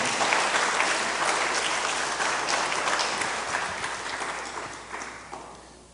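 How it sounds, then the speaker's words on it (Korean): A church congregation at a Friday worship service applauds to welcome alumni guests: dense, sustained clapping from a large room that gradually thins and fades over six seconds, with no talking. "박수 부탁드리겠습니다"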